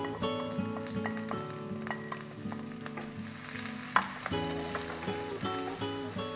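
Scallion, ginger and garlic frying with pork belly in oil in a wok, a steady close sizzle with soft stirring and a single sharp clack midway, no talk, with a quiet tonal backing throughout.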